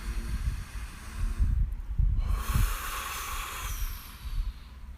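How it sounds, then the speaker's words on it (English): A deep breath drawn and released outdoors in a park during a guided grounding meditation, a long airy inhale and exhale with some breathy hiss over low wind rumble, close and fairly loud. "Let's take another deep breath now together."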